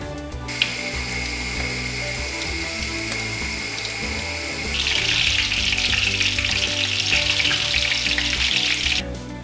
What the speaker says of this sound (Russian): Обмакиваем в кляре котлеты и обжариваем в растительном масле.